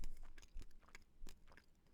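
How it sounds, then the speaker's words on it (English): Close-up chewing of a very soft fig bar cookie with a molasses-like fig filling: quiet, irregular moist bites and chews over about two seconds, with no talking. "this is the chew I want in a fig bar"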